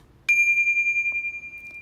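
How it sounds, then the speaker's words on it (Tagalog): A small hand bell rung once before prayer, giving a bright, clear ring that sustains and slowly fades, with a faint extra tap near the end. "Bell ko lang to, ha."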